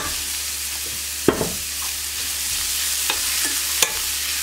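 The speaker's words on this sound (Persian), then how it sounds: "یه کوچولو این وسط تفت خورد با بقیه سبزی ها قاطیش میکنم" Garlic, pepper and herbs sauté in oil in a pan, giving a steady soft sizzle broken by a few sharp clinks and scrapes of stirring, close by and with no talk.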